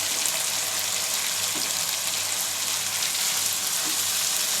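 Fried taro root (arbi) sizzles in masala in a pan, a dense, even crackling hiss that stays at a constant level throughout with no voices.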